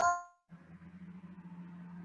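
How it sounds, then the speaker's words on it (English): A mobile phone rings with a brief bright chiming tone during a community planning meeting. It lasts under half a second, then gives way to a low steady room hum with no talking. "my wife's phone's going off"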